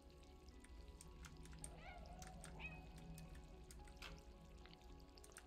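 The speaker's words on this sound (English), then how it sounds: "Meow." A cat meows in the video game Stray, a couple of short rising calls heard over a steady ambient game soundscape with faint dripping water.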